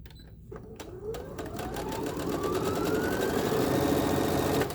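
Sewing machine stitching pieced quilt border pieces together, a steady rapid whirring run that builds speed and holds loud and continuous, with a few taps at the start.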